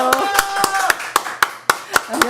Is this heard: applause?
yes